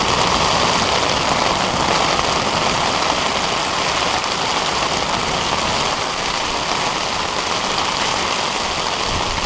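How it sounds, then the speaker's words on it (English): Steady, loud rush of rain falling on a beach at night in winter at Aldeburgh, a dense unbroken hiss without pause and no voices. "here comes the rain again"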